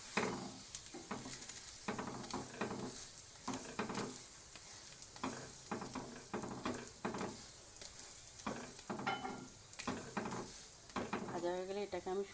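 A paneer paratha stuffed with mashed paneer kofta fries in a pan over low heat, with continuous soft sizzling and repeated scraping and stirring strokes of a utensil against the pan.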